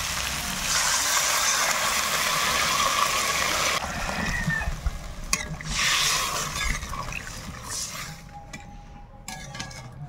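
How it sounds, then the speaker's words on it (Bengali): Water gushes into a pan of frying spice paste for a thin fish curry made with fresh sea fish, a loud steady pour and sizzle that fades and settles into quieter bubbling. "এবার আমি জল দিয়ে দেবো।"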